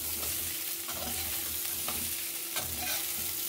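Masoor dal fritters frying in hot oil, a steady broadband sizzle with soft stirring scrapes and a few brief clinks, fairly close and continuous throughout, no voices.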